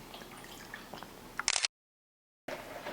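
Water poured for a drink gives a short, bright splashing burst, then a sudden cut to silence before room noise returns.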